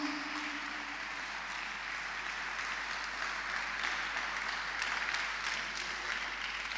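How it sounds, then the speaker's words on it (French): A church congregation applauds and cheers for Jesus during a French-language worship service, a steady wash of clapping that holds evenly for several seconds with no voice over it. "Est-ce qu'on peut acclamer pour Jésus?"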